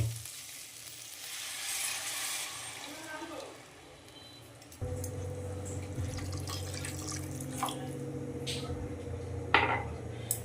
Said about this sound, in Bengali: এর উপরে আমরা দিয়ে দেবো জল